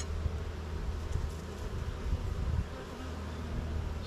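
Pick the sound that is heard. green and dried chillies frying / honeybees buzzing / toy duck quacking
honeybees buzzing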